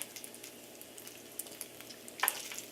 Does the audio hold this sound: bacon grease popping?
yes